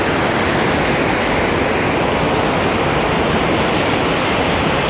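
Middle Falls at Gooseberry Falls State Park, Minnesota, running low during a drought, gives a steady, close, loud broadband rush of falling water that holds unbroken throughout with no voices.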